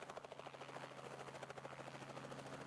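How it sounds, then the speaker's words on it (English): A blue helicopter flying past, its rotor giving a steady, rapid chopping pulse with a continuous engine whine, fairly faint and unbroken throughout. "Look at the helicopter fly through the air."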